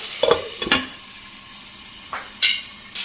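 Tomatoes and spices fry in a pan for jackfruit curry, with a soft sizzle under several scraping stirs of a spoon against the pan, some in quick pairs and others spaced apart.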